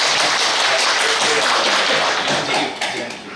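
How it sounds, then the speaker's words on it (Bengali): An audience applauds in dense, steady clapping, loud and continuous throughout. "আমরা একটা জোড়া হাততালি দিই"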